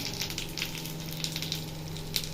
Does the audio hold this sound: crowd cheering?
no